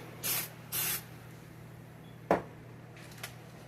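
Two short hissing bursts of cooking spray onto a pan, each about half a second, followed by a sharp clatter and quiet room noise; no talking.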